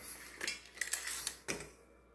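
Metal 9-inch cake pans handled in a kitchen: several clanks and light metallic knocks in quick irregular succession, close and moderately loud, with no voices.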